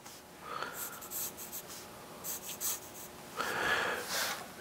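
A pencil draws freehand lines on paper for a chalet sketch in perspective. Close, scratchy strokes come in short bursts and longer sweeps, alone without any talk.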